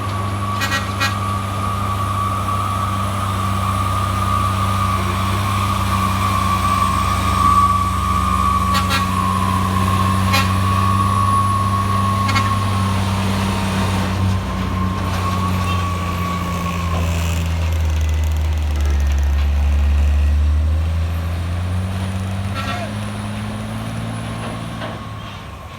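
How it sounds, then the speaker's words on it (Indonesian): Hino trucks labouring up a hill near a mine, with deep, steady engine drone and a higher whine shifting in pitch, brief hisses cutting in, heard close and loud throughout without talk. "Ya ramai ya bosku, truk Hino"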